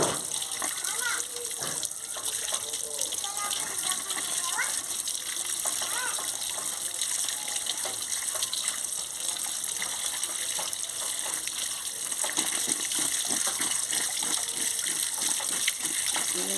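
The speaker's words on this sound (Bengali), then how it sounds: "আলু আর হিচেটা কেটে নিয়েছি এবার ধুয়ে নিচ্ছি" Cut potatoes and hinche greens are washed under running water in a home kitchen, with a steady gush and splash throughout and voices talking in the background.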